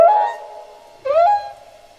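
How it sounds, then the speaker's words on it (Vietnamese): Humpback whale song rises in two tonal, moaning phrases, the second sweeping upward, each ringing on with a sustained hum at moderate loudness. "tiếng hát của cá voi lưng cù vẫn được các nhà nghiên cứu tìm hiểu hàng nhiều năm nay"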